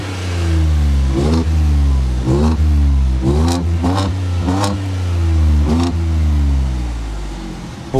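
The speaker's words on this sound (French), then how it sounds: "une petite accélération, voir ce que ça donne quand même, vu que ça a été modifié par Manhart" A modified Ford Bronco Manhart BC400 with a 2.7-litre EcoBoost engine revs up loudly and steadily, rising and falling through several throttle blips over a deep continuous rumble, close by with no talking.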